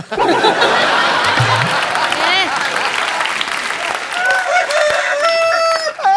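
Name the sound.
person imitating a rooster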